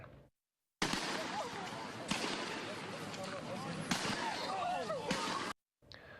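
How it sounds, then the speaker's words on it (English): Police fire beanbag rounds at a man, heard as a few sharp bangs within loud, chaotic scene noise and shouting voices, with abrupt cuts to silence at the start and end. "you can hear police firing beanbags to try to subdue the man"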